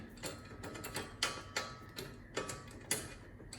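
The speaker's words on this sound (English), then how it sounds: "we'll just put one bolt in to get it started" A bolt turned into the steering wheel mount of an Autotecnica Monza X racing sim stand during assembly: a run of light metallic ticks and clicks, close and fairly quiet, over a low background noise.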